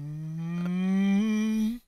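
A person imitates a cow mooing with one sustained, rising nasal moo that swells and cuts off abruptly, alone and close.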